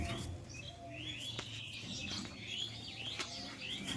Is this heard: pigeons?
yes